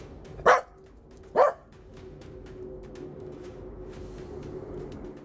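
A dog barking sound effect played as a cue on a football show, two sharp barks close together near the start, then a low background hum.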